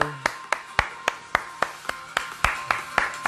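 Steady hand claps of encouragement, about a dozen sharp, evenly spaced claps in a brisk rhythm, close and clear with no voices over them.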